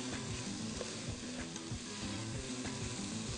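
Garlic fries with white vinegar in a pan, making a dense, constant crackling sizzle with light clattering throughout, close and fairly quiet, with no voices.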